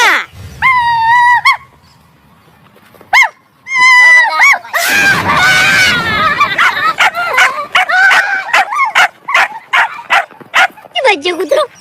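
A dog barks and yips loudly in sharp repeated bursts, mixed with high whimpering cries and screams, fairly close, with gaps of quiet between volleys.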